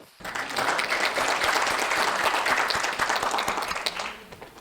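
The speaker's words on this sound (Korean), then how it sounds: "큰 박수로 맞이해주십시오." An audience at a Korean environmental education lecture gives a burst of applause to welcome the host. The clapping is steady and full for about four seconds, then fades out.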